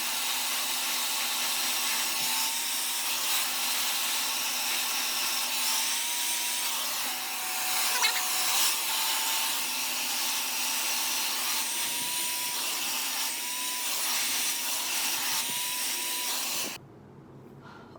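A hair dryer blows on damp hair in a continuous, loud whir with a steady pitched hum, shifting slightly as it moves, then cutting off abruptly at the very end.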